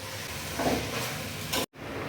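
Coriander and mint leaves sautéing in a pan for Tamil-style tomato rice, a steady close sizzle with a brief stirring scrape, then a momentary dropout before the frying hiss resumes.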